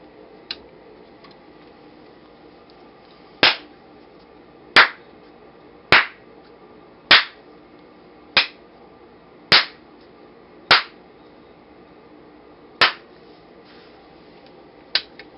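Nine sharp hand claps ring out one at a time at uneven intervals of about a second, each crisp and close against a quiet room hum, switching a clap-on clap-off LED circuit.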